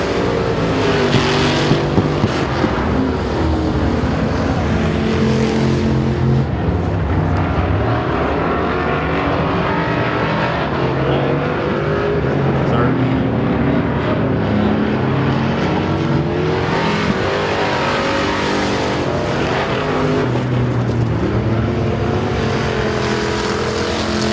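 Late model race cars lap Chatham Raceway at a season-opening race, engines roaring loud and continuous, rising and falling as the cars pass, with no talk over the noise.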